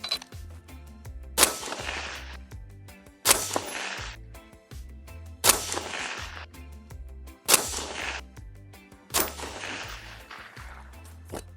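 A PSA JAKL rifle firing 5.56 77-grain ammunition, five loud single shots spaced about two seconds apart, each with a sharp crack and a ringing decay, with no talk.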